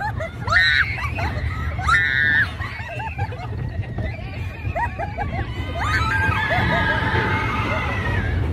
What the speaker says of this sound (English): Please ignore my excessive screaming.